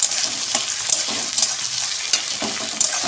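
Chili sizzling and frying in hot oil in a pan for Bengali tarka dal, a steady dense crackle with occasional stirring clicks, close and fairly loud with no voices.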